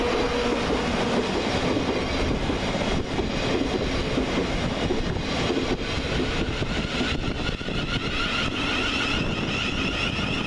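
Govia Thameslink Class 700 electric train, unit 700-155 on the Bedford to Brighton service, passing through Three Bridges station with a loud continuous rumble and wheel clatter that holds steady close by for the whole stretch.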